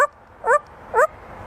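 A grey parrot mimics a dog's bark with two short, clear yelps about half a second apart, close up, in an otherwise quiet room.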